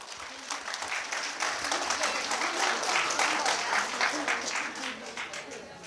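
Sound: applause

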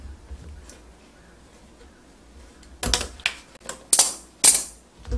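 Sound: cutting a new sink drain hose to length

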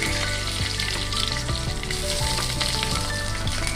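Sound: bay leaf frying in hot oil for tempering

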